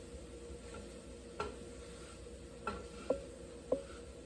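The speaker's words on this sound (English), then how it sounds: "So this is a metal spatula." A metal spatula stirs scrambled eggs in a pan over a faint sizzle, with four soft scraping clicks spaced irregularly against the quiet cooking noise.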